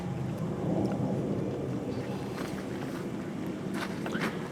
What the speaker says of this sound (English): the wind's picking up a wee bit